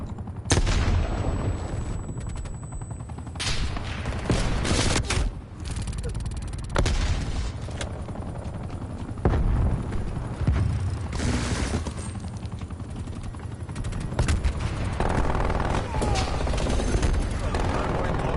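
Rapid automatic sentry turret gunfire in the Call of Duty Cold War video game, loud bursts of shots and booms stacked over continuous battle noise during a hardpoint match, with voices announcing over the action.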